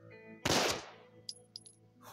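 A single loud gunshot from the video game Desert Nomad, a sharp broadband blast decaying over a fraction of a second, followed by a few faint clicks and pickup chimes over a steady game music bed.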